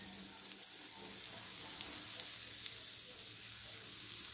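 Drumstick leaves sauté in a pan with a faint, steady, even hiss like light rain and an occasional soft tick, heard alone and at low volume throughout.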